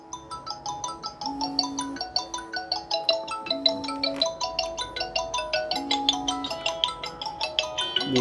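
Colmi M41 smartwatch ringing for an incoming Bluetooth call, a looping, bright electronic melody repeating steadily throughout, close and clear with no talk over it.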